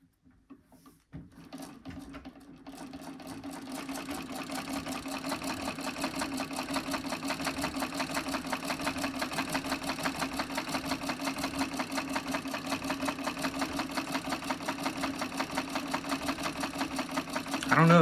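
A Singer Model 27 treadle sewing machine runs steadily for most of the stretch, its rapid, even mechanical clatter building after a few quiet seconds of setup knocks and then holding a constant, close-up rhythm.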